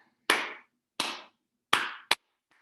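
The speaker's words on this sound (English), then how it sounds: "these two claps right here in the center are shorter and closer together than these three" Four sharp hand claps in a deliberate rhythm, the last two quicker and closer together, crisp and close with silence between.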